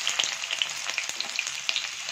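Chopped onion with garlic and green chilli frying in a pan for vegetable chow mein, giving a steady close crackle and sizzle with scattered sharp pops throughout.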